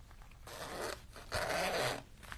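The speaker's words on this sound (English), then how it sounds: "So we have the zipper." A zipper on a handmade card is pulled open in two quick raspy strokes, the second longer and louder, close by with no talking.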